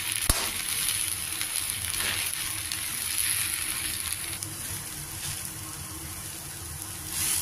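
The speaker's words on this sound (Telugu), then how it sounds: "గోంగూర బాగా వేగింది" Gongura leaves with tamarind fry in a pan, giving a steady, even sizzle with faint crackles and stirring scrapes throughout, heard alone.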